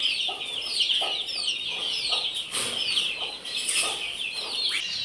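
Pet hens and roosters cluck and chatter steadily around a newly hung grain feeder, with repeated short calls and some wing flapping, fairly close and busy throughout.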